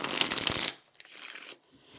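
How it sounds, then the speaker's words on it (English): Tarot cards riffled and shuffled by hand, a dense close flutter of snapping cards followed by a couple of softer, shorter shuffles and brief pauses. "I'll do a couple more quick shuffles for you to witness."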